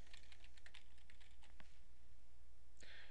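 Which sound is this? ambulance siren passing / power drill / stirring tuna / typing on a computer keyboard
typing on a computer keyboard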